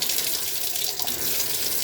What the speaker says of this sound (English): you turn the water back on